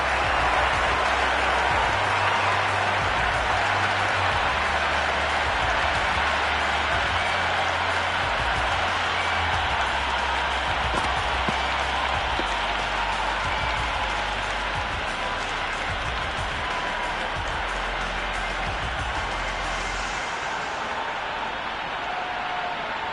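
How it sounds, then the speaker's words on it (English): Simulated stadium crowd in a T20 cricket video game roaring and applauding a hat-trick, a dense, loud, continuous wash of cheering and clapping that stays level before easing slightly near the end. "That's a hat-trick, and the crowd are going wild."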